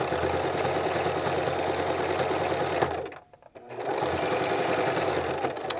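A sewing machine stitches fabric around in a circle, running in a loud, steady mechanical hum that stops for about a second before starting again and running on.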